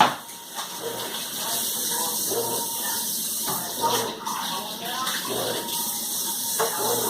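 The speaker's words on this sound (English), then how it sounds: "just washing my hands." Hands are washed under a running tap, a steady close stream of water splashing with small shifts in flow throughout, alongside some faint background voices or noise.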